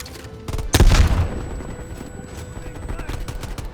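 A light machine gun in the video game Black Ops Cold War fires a short, loud burst up close with a booming punch, then the scene settles into quieter rattling and background game noise.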